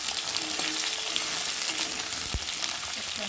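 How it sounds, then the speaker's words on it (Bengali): Potatoes fry in a pan with a steady, close sizzle and occasional stirring scrapes, with no talk over it. "আলুটা ভাজা ভাজা হয়ে গেছে"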